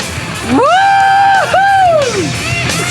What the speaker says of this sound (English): I just got a little nutty and started screaming a little bit